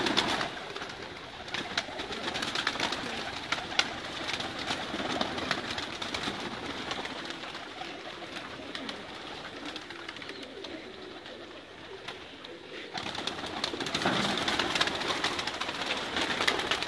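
Breeder pigeons coo softly and repeatedly amid a constant airy background hum, with occasional rustling and flutter, the calls low and somewhat distant.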